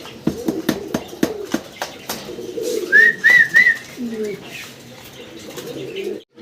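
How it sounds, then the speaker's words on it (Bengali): German Beauty Homer pigeons coo in a run of soft, rolling calls, with a few brighter chirps and scattered clicks and flutters around them, close and fairly loud. "লক্ষ্মী একটা কবুতর ভাই, লক্ষ্মী।"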